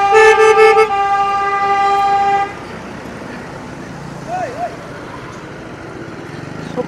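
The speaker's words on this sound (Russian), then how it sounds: "Машины сигналят." Car horns honking on a busy mountain pass in Vietnam, a loud blaring horn blast lasting a couple of seconds, followed by quieter road noise and a short distant chirp.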